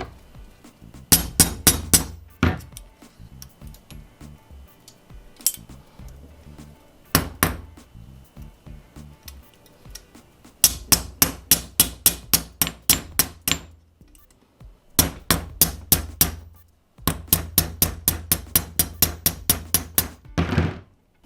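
A speargun shaft flopper is tapped gently to tune it, giving bright metallic clinks in quick rhythmic runs separated by pauses, close and clear with no talking.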